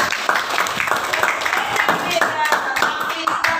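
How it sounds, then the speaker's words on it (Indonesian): Applause fills a classroom, a scattered run of hand claps by students that sounds close and fairly lively, with some voices mixed in. "Tepuk tangan Bapak."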